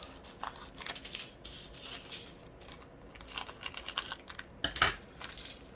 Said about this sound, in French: Et j'ai mes petits ciseaux.